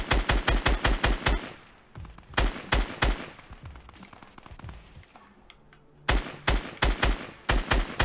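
Rapid bursts of automatic gunfire in the Fortnite Battle Royale video game, loud close volleys at the start, the middle and the end, with quieter scattered shots and game noise between them.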